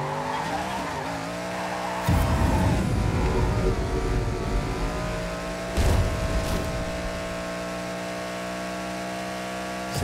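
A car drifting in the Ridge Racer Unbounded racing game, with a steady engine drone and loud, sustained tire skidding that surges twice, all close and without talk.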